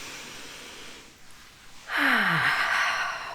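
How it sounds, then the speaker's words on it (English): A deep breath taken during a guided belly-rubbing relaxation exercise: near silence, then a strong, breathy inhale that swells suddenly and holds loud and airy for over a second, close to the mic, with no talking. "Another big breath."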